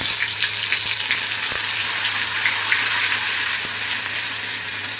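A ground paste of green chilli, ginger and tomato hits hot oil in a pan, giving a loud, continuous sizzle and crackle that holds steady without a pause.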